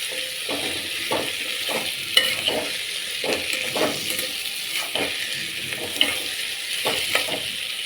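Diced potatoes and tomatoes sauté in a pan with a little oil, a constant sizzle broken by a regular series of scraping stirs roughly every half second, close and fairly loud with no voices.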